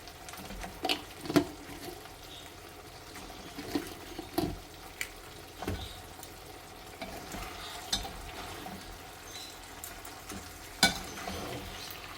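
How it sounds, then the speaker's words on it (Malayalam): Chicken being stirred into a frying dragon chicken sauce in a pan, with soft scraping and low sizzling and a few sharper spoon knocks spread irregularly over the whole stretch. "ചിക്കന് ഇതിലേക്ക് ഇട്ട് കൊടുത്താൽ മതി. എന്നിട്ട് നല്ലോണം ഇളക്കി ചേർത്ത്"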